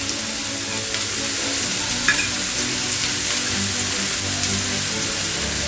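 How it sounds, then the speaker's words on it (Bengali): Roughly chopped onions, two medium ones, sizzle and crackle steadily in hot oil with occasional stirring scrapes, a continuous close frying hiss with no voices. "2টো মিডিয়াম সাইজের পেঁয়াজকে ভালো করে চপ করে নিয়েছি, সেটা আমি তেলে দিয়ে দিচ্ছি"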